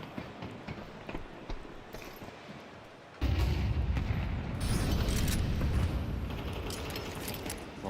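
Grenade blasts and gunfire in a Counter-Strike match, a sudden loud burst after a quieter stretch, then sustained dense explosive rumble and crackle with sharp transients, no talk.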